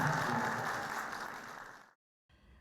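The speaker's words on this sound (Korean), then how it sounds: "객석에서 큰 환호가 쏟아집니다" An audience at a Dongguk University spring graduation ceremony cheers and applauds in a broad roar that fades gradually before cutting off, followed by a brief faint tail.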